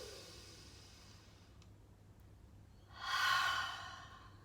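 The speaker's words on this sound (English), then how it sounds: "2 rounds of breath here. Breathing in." One deep breath drawn in during a breathing exercise for energetic points of the body, a soft airy inhale that swells near the end, close and alone over quiet room hum.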